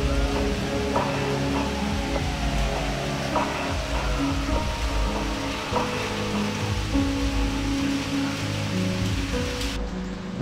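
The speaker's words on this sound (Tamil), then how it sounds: "மழை பெய்யுது." Steady rain falls in a tribal village deep in a dense forest, giving a continuous hiss with scattered drips and patters from nearby surfaces and no voices.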